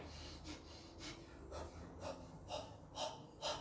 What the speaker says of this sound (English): I'm gonna guide you and maybe intensify the breath and the breathing